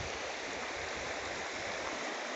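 A creek flowing beside Little Naches Road near the Naches River, a steady broadband rushing and babbling of water, close and continuous with no voices.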